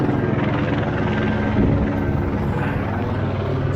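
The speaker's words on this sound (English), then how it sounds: "Fucking helicopter." A helicopter's steady, heavy rotor thrum fills the whole stretch, loud and close overhead with no letup.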